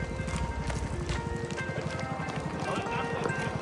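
Horses trot along a road with steady, rhythmic clip-clop hoofbeats, moderately close and continuous throughout, with a faint background hum.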